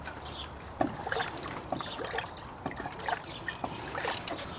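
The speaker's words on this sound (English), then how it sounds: "So while your radiator is filling up with coolant" Pink radiator coolant pours through a funnel into a Lexus GX460 radiator, a soft, uneven trickle and gurgle of liquid that stays faint throughout.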